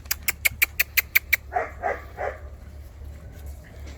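Cane Corso and Dogo cross puppies, about two months old, yap in a quick run of about eight sharp, high barks, then a few softer whiny yelps, close by over a low hum.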